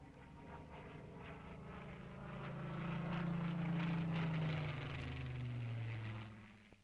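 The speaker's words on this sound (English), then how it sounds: "the average Britisher knew and welcomed the Spitfire sound" A Supermarine Spitfire fighter plane's piston engine drones as it passes, a steady low hum swelling to a peak midway and then fading slightly, heard alone without talk.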